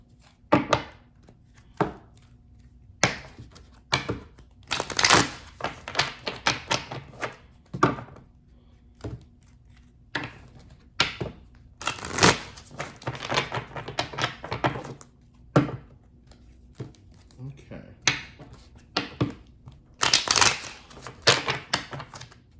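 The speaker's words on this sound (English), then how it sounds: "Let's pull some cards to clarify" Tarot cards being shuffled and pulled during a reading, heard as close, irregular bursts of riffling and snapping taps separated by quiet pauses, with no talk.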